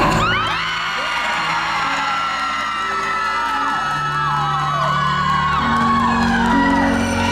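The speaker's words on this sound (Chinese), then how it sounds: "好啦，全场尖叫让我听一下。" A concert audience at a singing competition show in a Yunlin performance hall screams, whoops and cheers loudly and continuously, with overlapping shrill voices rising and falling throughout.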